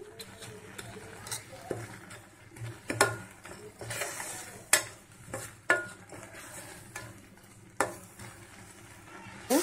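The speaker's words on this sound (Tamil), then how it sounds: "நல்லா மிக்ஸ் பண்ணி விட்டுருங்க" Carrot halwa with jaggery stirred in a pan, soft scraping and sharp metal clinks of a spoon against the pan repeating at irregular intervals, quiet and close.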